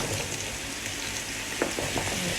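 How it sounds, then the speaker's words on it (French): Sliced zucchini sautéing in olive oil in a pan, a steady close sizzle with a few soft stirring scrapes near the end. "Et je vais sauter mes courgettes."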